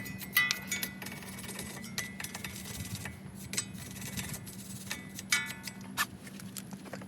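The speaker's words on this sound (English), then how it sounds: "Metal wire brush." A metal wire brush scrubs the hub and brake parts of a 2017 Nissan Murano in quick, scratchy, irregular strokes, close by, with light metallic clinks mixed in.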